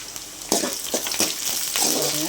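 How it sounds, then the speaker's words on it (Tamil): Onions sautéing in a pan for a South Indian dish: a steady, close frying sizzle broken by several scraping, clattering strokes of a spatula as they are stirred. "வெங்காயம் நல்லா ஓரளவுக்கு வதங்கிருக்கு"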